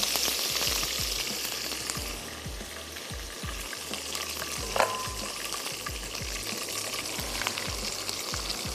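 Onion paste frying in a pan for a vegetable curry gives a steady, close sizzle with a faint stirring clatter underneath and a brief scrape near the middle.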